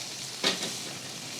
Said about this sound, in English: I take the steaks from the bottom and I throw them up on the top